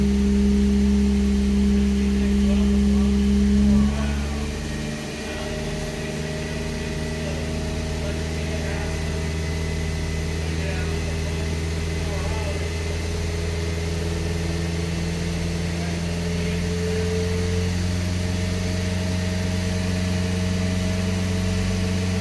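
Nissan Z24E four-cylinder engine running steadily at about 2,700 RPM, a close, even drone with stable tones throughout, after a brief louder stretch at the start.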